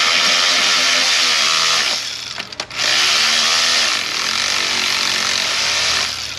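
A power tool, probably an impact wrench, runs wheel studs down on a 2008 Lexus RX400h during a timing belt repair, with two long loud bursts of whirring separated by a short pause.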